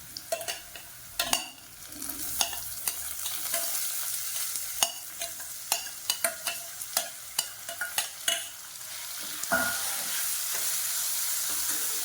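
Beetroot sautéing in a pan, a steady sizzle carrying on throughout with repeated sharp scraping and clinking as it is stirred, the strokes clustering more densely in the second half.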